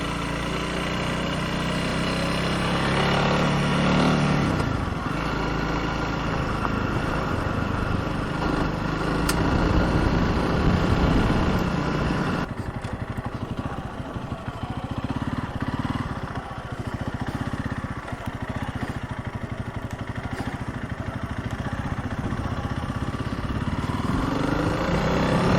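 A Honda CRF300L on Pirelli MT21 tires rides a packed pea-gravel road, its single-cylinder engine droning steadily and close with shifts in pitch, easing off around midway, with tire crunch and wind under the engine note.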